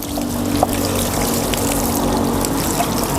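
Water pours and splashes steadily while a Honda Nova motorcycle is washed outdoors, a continuous close-up rush with no talking.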